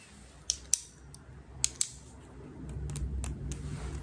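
A pen is handled close to the microphone in a quiet ASMR setting, with a few sharp, crisp clicks in pairs over a soft, faint rustling background.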